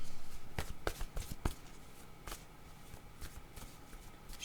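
Cards handled during a word-guessing card game, with a series of sharp flicks and slaps at an uneven pace and softer shuffling between them, close by, while faint voices murmur in the background.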